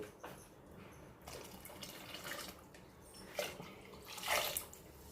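Two glasses of water are poured into thick, well-mixed dal makhani, a soft, close trickle and splash in uneven bursts, faint against low background hiss.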